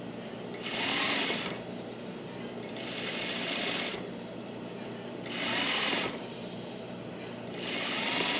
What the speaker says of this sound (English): sew right over the original stitch here